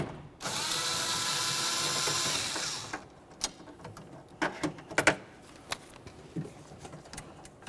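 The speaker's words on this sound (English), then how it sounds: "I'll continue on with a wrench that fits on the bolt and a socket that fits on the nut." A power tool spins a bolt loose on a 2001-2005 Ford Explorer Sport Trac during window motor replacement, giving one close, steady whirring burst of about three seconds followed by scattered light clicks and taps.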